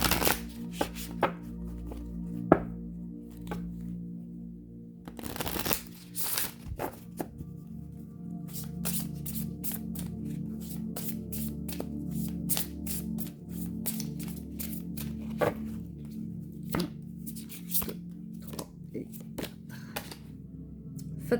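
Oracle cards being shuffled by hand, a run of quick crisp riffling clicks and flutters close by, with a few louder handling bursts early on and steady card noise throughout.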